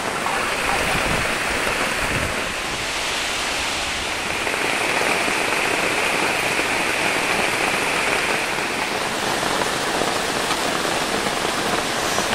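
Heavy rain pours steadily at a flooded camp shelter during a downpour with strong wind, a dense continuous hiss with no break for the whole stretch, loud and close.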